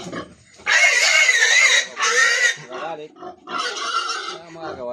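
Pigs being raised as fatteners squeal and grunt loudly in long harsh bursts close by, with short pauses between the outbursts.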